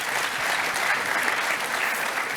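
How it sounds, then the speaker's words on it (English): An audience at a panel discussion applauds, a dense, steady wash of clapping that holds evenly at full strength for the whole short stretch. "give the four of them a big round of applause again"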